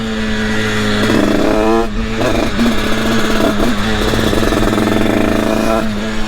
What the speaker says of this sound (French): la moto est démarrée